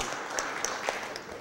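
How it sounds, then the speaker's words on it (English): Applause from the audience at a city Board of Aldermen meeting, a steady wash of clapping lasting just over a second with a few sharper claps standing out. "Let's give them a big round of applause"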